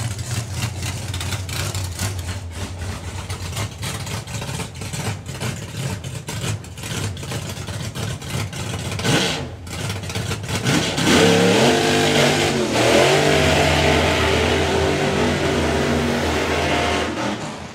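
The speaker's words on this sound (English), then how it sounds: "So this is Peter Kunk with one of those gel coat Camaros." A gel coat Camaro drag racing car at a drag racing event idles with a rough, loud engine and then revs up hard, its note rising and swelling to a sustained roar near the end.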